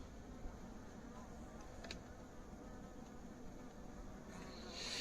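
Faint, close buzzing of honey bees at an apiary over quiet background noise, a soft continuous drone with occasional louder passes near the microphone.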